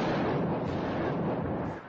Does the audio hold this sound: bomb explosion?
yes